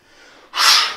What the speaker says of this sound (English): Breathing out before coming up and then down.